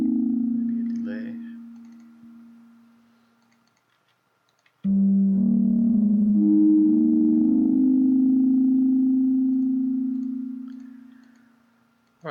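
Synth notes run through a delay effect in the Renoise Redux VST plugin: a sustained tone fades out, silence follows, then a louder held note swells and decays, with faint repeating ticks.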